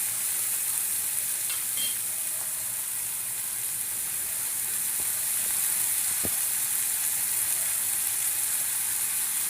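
Mixed ingredients frying in a pan give off a steady, close sizzling hiss that holds even throughout, with a few faint utensil clicks and no talking.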